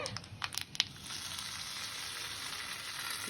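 Spices for an idli sambar tempering crackle in hot oil, a few sharp pops early on settling into a steady close sizzle.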